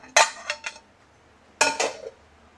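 A metal lid set onto a pot: a sharp clank followed by a couple of lighter rattles, then after a pause a second clank and settling rattle, close and clear.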